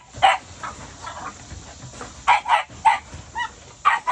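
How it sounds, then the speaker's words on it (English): An American Bully puppy barks in a series of short, sharp yips and barks, close and fairly loud, with brief pauses between bursts and no talk. "That's the puppy actually right there with Hennessy."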